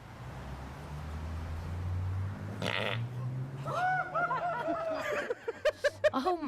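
A comical fart sound effect from an online role-playing video game, a burst of wobbly, bleating tones that sputters in the middle, then short popping puffs near the end over a steady game soundtrack hum.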